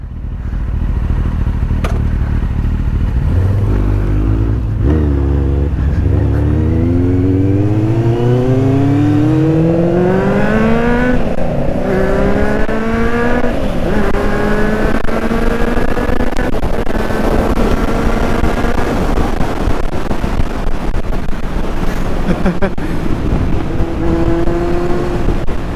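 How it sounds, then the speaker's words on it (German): A Mercedes-AMG V8 car engine revs and accelerates nearby, its pitch sweeping upward in repeated rising pulls over a steady loud rumble, with no talk. "V8 AMG, was denn für einer?"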